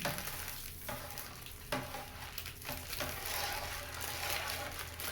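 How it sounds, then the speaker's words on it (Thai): A homemade kaffir lime shampoo mixture is stirred steadily, giving a continuous wet swishing and scraping with a few sharper knocks, close and unbroken by talk. "เราคนให้เขาเข้ากันเลย น้เป็นเนื้อเดียวกัน"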